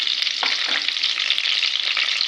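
Butter with a little refined oil heating in a pan for dal makhani, giving a steady, bright sizzle and crackle with faint stirring scrapes, close and continuous, no voices.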